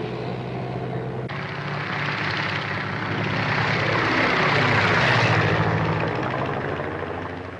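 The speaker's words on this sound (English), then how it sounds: "That's a government plane." A government propeller airplane in a 1934 film, its engine roaring steadily and loudly, swelling toward a peak as it passes close by, then easing slightly, with no talking.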